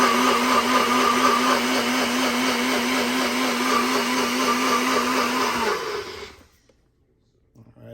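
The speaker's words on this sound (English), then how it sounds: "I'll just puree, and you want to get it almost liquefied" A blender purees a Jamaican pepper sauce for shrimp until almost liquid, a loud steady whirring drone that runs for about six seconds and then stops abruptly into silence.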